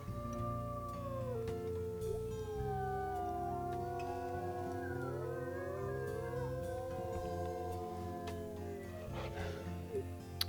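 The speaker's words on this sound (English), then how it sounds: "Well, let's do a howl together." A pack of wolves howls together in the video game WolfQuest, several long rising and falling wailing voices overlapping continuously over a dense, steady background.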